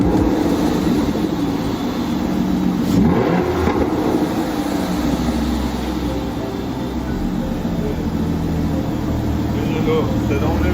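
An Aston Martin DB9 Volante convertible engine revs under loud, excited talk, its note rising then settling into a strong, steady drone across the whole stretch.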